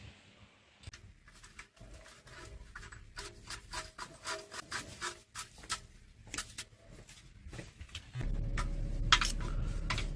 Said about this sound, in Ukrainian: Закручуємо до моменту, коли буде такий хруст